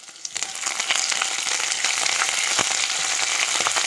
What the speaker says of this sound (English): Now we can add few curry leaves into it.